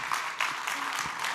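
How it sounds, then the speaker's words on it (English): Attendees at a cobalt market report launch applaud a speaker named Harry, a brief, moderate patter of clapping with a faint murmur of voices beneath. "A round of applause for Harry."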